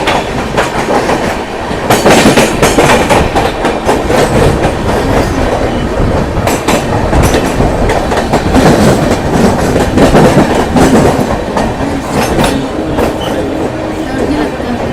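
The Patna Sampoorn Kranti Express passenger train runs on the rails in India, with loud, continuous rumbling and rhythmic clickety-clack of wheels over rail joints heard close from onboard, steady throughout.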